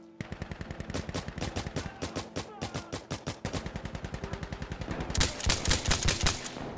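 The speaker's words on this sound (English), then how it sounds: "where's that shot coming from?" Rapid automatic gunfire in the tactical shooter video game Insurgency: a long, steady stream of sharp, loud shots close by, getting heavier and denser near the end, with no talking over it.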